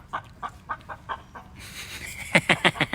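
Chickens clucking nearby, a rhythmic run of short clucks followed by louder, higher squawking calls that grow busier toward the end, with no talk over them.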